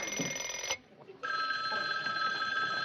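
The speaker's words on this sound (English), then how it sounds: "Oh, it's the phone." A telephone bell rings loudly and steadily in a home, with one brief pause between rings and no talk over it.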